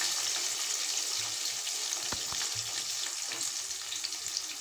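Sliced onions and green chillies fry in a pan for a canned fish curry, giving a steady, close hiss and sizzle with a few faint stirring knocks and no talking.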